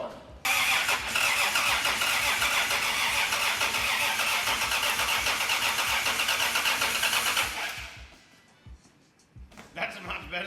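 A blown Toyota 7M Supra engine cranks briefly, then catches and roars with a loud, steady rumble for several seconds before cutting out; a voice speaks near the end amid quieter noises.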